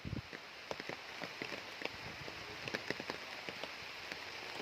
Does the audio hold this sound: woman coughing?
no